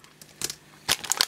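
Scissors cut open plastic toy packaging with two short crinkling, snipping bursts, the second louder and more sustained, close to the microphone with no talking.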